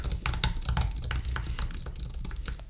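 Typing on a compact Logitech MX Keys Mini computer keyboard: rapid, quiet, evenly spaced key clicks close up, with no voices.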